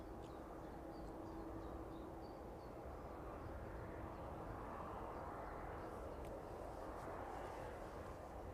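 A Boeing 777 taxiing at East Midlands airport gives a steady, distant jet engine rumble and whine that holds evenly throughout, with faint chirps in the background.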